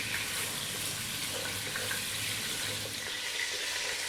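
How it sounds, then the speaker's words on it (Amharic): Lamb meat fries in a covered pan for Ethiopian shereba, producing a soft, even, muffled sizzle that holds quietly and continuously with no voices. "ስጋችን እየተጠበሰ እዚህ ደርሷል"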